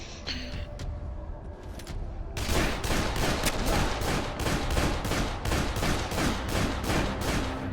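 Rapid gunfire in the zombie video game Dead Island Riptide, a dense train of loud, evenly spaced shots after a couple of brief earlier bursts.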